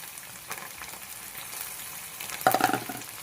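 Mutton blood frying in a pan with salt, turmeric and ginger-onion paste, stirred through; a soft, low sizzle runs throughout, with a short burst of louder stirring and scraping near the end.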